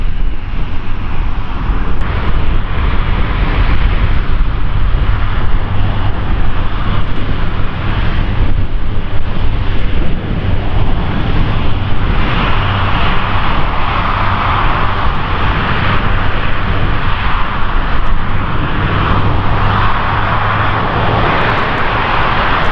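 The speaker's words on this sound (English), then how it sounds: "starting his take-off run will be equally dramatic. This is an entirely different type of aircraft from Airbus. This is the A400." An Airbus A400M turboprop military transport starts its take-off run at the Farnborough Airshow 2016, a loud, continuous engine roar with a steady droning rumble and broad hiss that holds across the whole stretch, with some wind buffeting.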